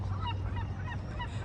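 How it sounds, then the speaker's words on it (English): A seagull calls outdoors in Barcelona, giving several short, squawking cries over a steady low background hum. "There's a seagull."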